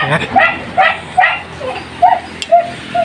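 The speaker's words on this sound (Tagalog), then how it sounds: "Ingay nung aking aso" A dog barks repeatedly nearby, about seven loud yappy barks spaced unevenly, with no other voices.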